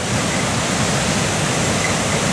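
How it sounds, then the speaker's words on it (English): A waterfall in a wet forest near cliffs, a dense, unbroken roar of falling water that stays loud and steady throughout with no voices. "I think we can see the waterfall over here"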